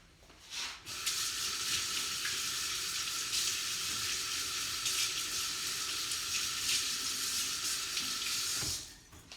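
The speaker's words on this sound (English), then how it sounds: "let me wash my hands" Hands wash under a running kitchen faucet, a close steady hiss of water with splashing that starts after a brief knock and stops abruptly near the end.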